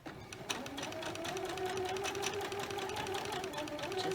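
Sewing machine stitches quilt pieces in a fast, even mechanical whir, running steadily and close by with a faint tick at the start.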